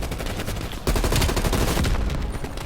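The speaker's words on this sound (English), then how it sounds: "Oh, I'm getting shot." Sustained automatic gunfire in the Black Ops Cold War video game, a dense continuous rattle of shots that swells louder partway through and keeps going steadily, with no voices over it.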